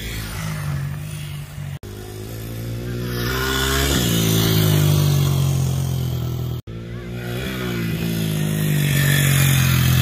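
A Kawasaki KDX220 dirt bike engine runs steadily on a trail ride, its loud droning note rising and falling with throttle changes and two brief cuts in sound.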